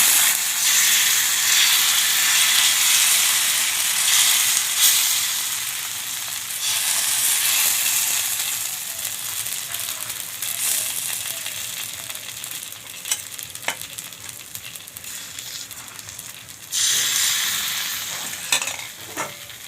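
Patisapta batter, about one and a half ladles, sizzles and hisses steadily in a hot pan while being stirred with bay leaves. The frying is broadband and continuous, with a few scraping clicks near the end and no talking.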